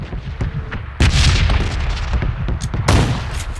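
A hand grenade goes off in a battlegrounds shooter, a heavy blast near the one-second mark followed by rumbling low booms and a second strong burst near the end, with gunfire-like cracks scattered throughout.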